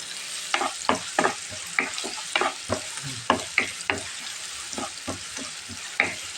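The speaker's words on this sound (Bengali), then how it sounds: "তারপরে আমি চিংড়ি মাছটাও এর ভিতরে দিয়ে দেবো একটু লাল করে নেব" Shrimp frying in a pan for a water lily stem and shrimp dish, with a steady sizzle broken by repeated sharp scraping stir strokes in a fairly even rhythm, close up and with no talking.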